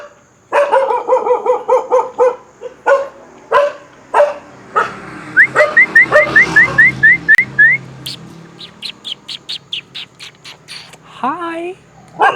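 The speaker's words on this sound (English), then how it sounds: "There are some dogs that are barking at me." Several dogs bark in quick repeated bursts, some high yips among deeper woofs, close and loud, with brief gaps between volleys.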